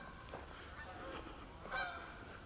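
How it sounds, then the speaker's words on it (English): Geese honking at a distance outdoors near a bridge, a few faint scattered honks over a steady background hiss. "Stupid geese."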